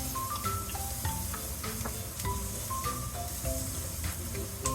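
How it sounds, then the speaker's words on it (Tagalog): Onions sautéing until brown in a pan for vegetable lumpia with chayote and bean sprouts: an even, moderate sizzle that holds steady throughout, with a melodic tone pattern over it. "Ayan, ang pagigisa ko. Nag-brown na siya"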